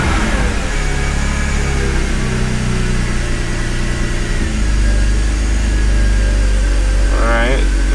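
A BMW E46 330Ci engine idles slightly rough, a steady low rumble that holds close and loud throughout, with a brief higher whirring sweep near the end.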